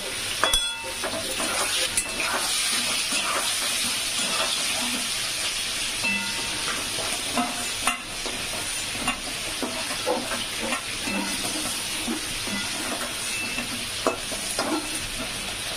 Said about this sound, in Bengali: তার জন্য পটলের সাথে একটুখানি ভেজে নেব